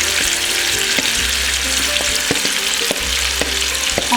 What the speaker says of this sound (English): I'm going to add all the masalas.